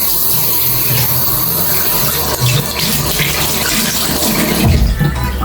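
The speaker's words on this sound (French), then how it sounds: "Je vais passer sous l'eau." Tap water runs steadily under a sink while cotton pads are rinsed during a skincare routine, a continuous close splashing flow that swells briefly near the end.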